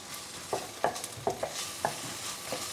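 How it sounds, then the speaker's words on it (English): Bok choy, red bell pepper and turmeric being sautéed in a pan, a soft background sizzle broken by five or six distinct stirring scrapes at a loose, uneven rhythm, close and fairly quiet. "So we're going to saute this."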